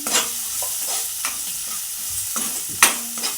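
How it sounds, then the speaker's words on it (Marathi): Tomato and ground masala paste being stirred and sautéed in a pan for a green chickpea vegetable dish, with soft scraping strokes and a low steady sizzle, plus a sharper clink near the end. "हे चांगलं परतून घेऊया"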